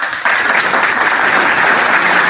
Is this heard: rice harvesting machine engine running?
no